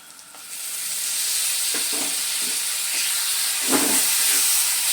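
Tomato paste frying in a spinach and cauliflower curry, a loud continuous hissing sizzle close up with a few bursts of scraping from a stirring spoon.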